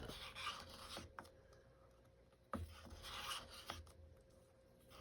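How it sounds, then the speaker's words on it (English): A stick stirs and scrapes around a container in slow turn-and-scrape strokes, giving a soft rasping rub that swells and fades, with a couple of sharper knocks between passes. "stir like this. Turn, scrape, turn, scrape."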